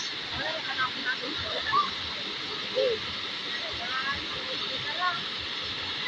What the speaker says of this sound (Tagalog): Meron dun falls guys